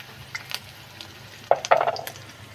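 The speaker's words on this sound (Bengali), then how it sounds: "পেঁয়াজটাকে ভালো করে ভেজে নেব" Onion frying with ginger paste in a pan, a faint low sizzle with a few light stirring scrapes, then a louder burst of spattering and scraping near the middle, with no talking.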